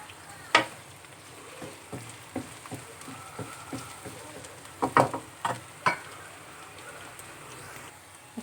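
Spices cooking in a pan with chili powder, turmeric and salt, heard as a low steady sizzle under scattered clinks and stirring taps, with a few sharper knocks near the middle and no talking.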